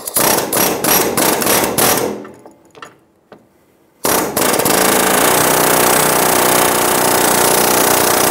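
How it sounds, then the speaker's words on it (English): Hammer and punch knocking the steering shaft off the steering rack on a 2007-2011 Toyota Camry: a loud, rapid series of sharp metallic blows, a brief pause with a few scattered taps, then a dense continuous burst of hammering. "Using a hammer and a punch or an air chisel, we're gonna pop the steering shaft off of the rack."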